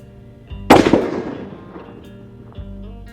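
A single loud Remington 783 rifle gunshot outdoors, a sharp close crack followed by a long decaying echo, with faint background hum.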